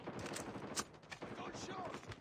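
Gunfire in a first-person shooter match with a sniper rifle, a burst of sharp rapid shots and impacts over about two seconds, mixed with game effects and a faint voice.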